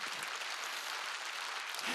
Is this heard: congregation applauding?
yes